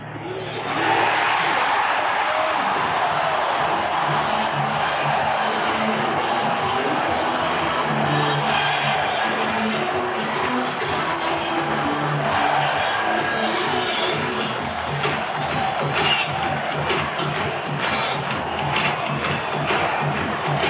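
A stadium crowd at a 1991 Chiefs vs Chargers NFL game reacts to a 19-yard field goal attempt, a dense, steady roar of cheering that holds loud and unbroken for about twenty seconds.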